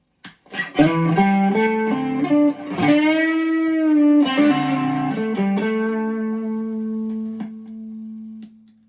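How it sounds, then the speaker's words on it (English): Electric guitar through a Tube Screamer overdrive pedal into an amp, with mild overdrive playing a few sustained notes and chords, ringing out with a gritty edge before settling on a held note. "So tube screamer by itself, right? Going into the amp."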